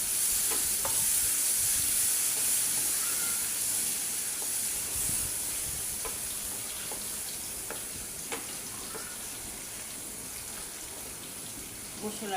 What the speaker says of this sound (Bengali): একটু পানি দিয়ে মশলাটা কষাই নিই।